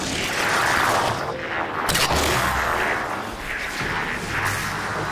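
Dense firefight between Prometheans and Covenant forces in Halo 4, loud overlapping blasts and weapon fire blending into a constant roar, with sharper bursts near two seconds.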